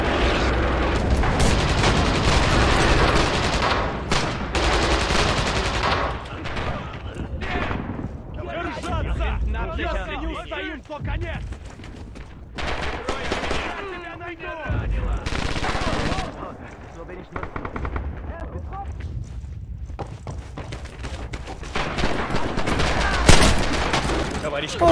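Machine gun fire crackles in Red Orchestra 2, rapid bursts and scattered gunshots with booming impacts, loud near the start and coming in waves, with someone talking over parts of it.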